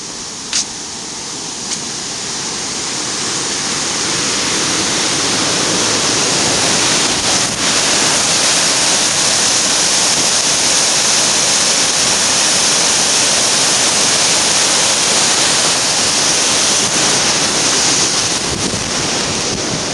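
Water rushes loudly and steadily over a dam on the Vorskla River, a constant roaring wash with wind buffeting the microphone and no voices.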